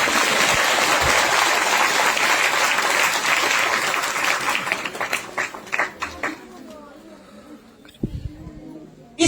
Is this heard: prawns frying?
no